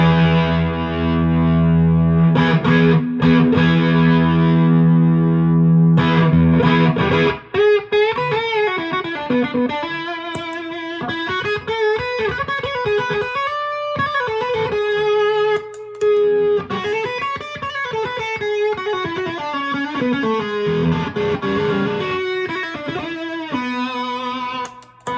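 An electric guitar through a Kingsley Mason J tube overdrive pedal plays distorted sustained chords, then switches to bending lead lines, loud and saturated throughout.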